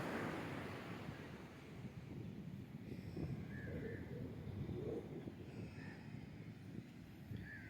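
Ocean waves on a beach at Kanyakumari, a steady rushing surf wash with some wind buffeting the microphone and a few faint bird calls in the background.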